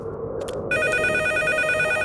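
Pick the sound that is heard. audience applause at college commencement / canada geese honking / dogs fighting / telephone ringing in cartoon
telephone ringing in cartoon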